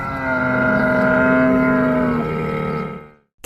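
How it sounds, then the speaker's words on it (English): Camel grunting: one long, loud, deep groaning bellow that holds for about three seconds, then cuts off. "camel, grunt,"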